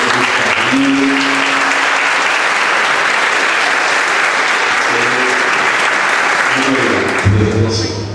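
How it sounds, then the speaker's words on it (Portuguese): A church congregation gives a family a warm round of applause, loud, steady clapping that fills the room throughout, with brief voices and musical tones surfacing near the end. "Eu gostaria que a igreja acolhesse com a salva de palmas a família"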